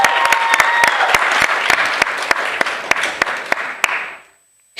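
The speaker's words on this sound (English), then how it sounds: "Let's give her a big round of applause." Audience at a Bharatanatyam arangetram claps in sustained, dense applause that fades out near the end, leaving brief silence.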